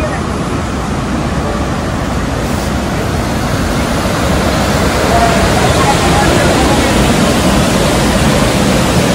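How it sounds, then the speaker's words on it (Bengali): Bhimkund waterfall in Keonjhar roars in the monsoon, a loud, dense, unbroken rush of falling water heard close up, steady for the whole stretch. "ঝর্ণার গর্জনটা কতটা তীব্র আশা করি তোমরা ভিডিওর আওয়াজেই বুঝতে পারছো"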